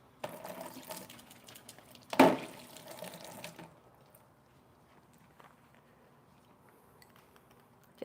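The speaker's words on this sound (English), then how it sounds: "Wash my whisk now." A whisk is rinsed under a running kitchen tap for about a second and a half, with a brief splash and clatter in the sink, then the water stops and the room goes quiet.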